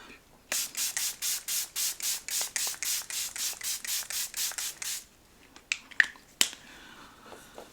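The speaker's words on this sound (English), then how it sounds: "I'm going to do a little setting spray." Rapid repeated spritzes of Fenty Beauty makeup setting spray, about fifteen quick pumps in a steady rhythm, close up, followed by a few faint clicks.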